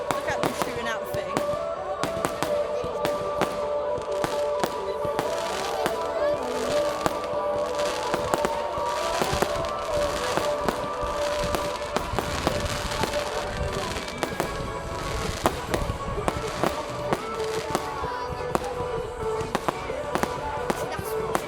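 Bonfire Night fireworks go off in a rapid series of sharp cracks and bangs, some near and some farther off, while people talk in the background.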